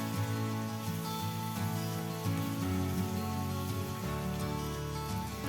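Pieces of elephant foot yam, salted and mixed with turmeric, fry lightly in a pan, giving a steady, dense sizzle like rain that runs unbroken and close throughout.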